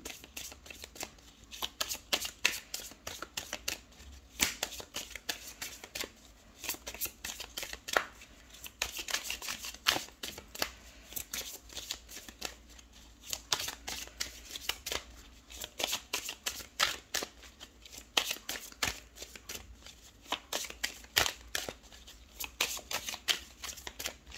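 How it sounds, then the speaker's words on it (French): Tarot cards shuffled over and over for a reading, a dense, steady run of crisp riffling and slapping close to the microphone, with no talking. "j'ai tiré au hasard les cartes"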